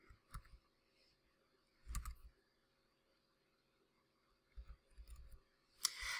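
Sparse mouse clicks on a computer while browsing a job listing, a few short sharp clicks spaced apart, faint and close, with no talking.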